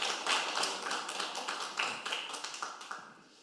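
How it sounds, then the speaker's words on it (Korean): An audience at a Korean forum talk concert claps to welcome a professor, a dense patter of hands that fades toward the end, moderately quiet with no voices over it. "박수로 맞이해 주십시오"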